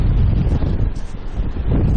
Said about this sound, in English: As you can see from the wind, we're in a super ultra windy beach area.